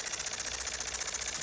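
A small electrically fired model steam engine runs steadily, giving a fast, even mechanical chuffing rhythm with a high-pitched whine on top, close and continuous throughout.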